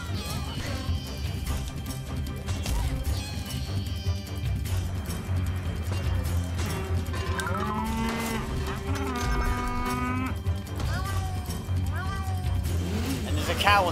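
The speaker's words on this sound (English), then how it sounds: "a cow on the field." Repeated cow moos ring out across a Mario Strikers Charged football match, over loud continuous game music and crowd noise, with commentary running throughout.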